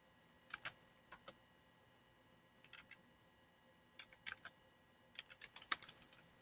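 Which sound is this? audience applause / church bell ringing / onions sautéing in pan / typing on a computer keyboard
typing on a computer keyboard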